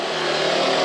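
A Triumph Scrambler 1200 XE motorcycle goes by nearby, its engine a steady, loud broadband rush that holds evenly through the short moment with no talking.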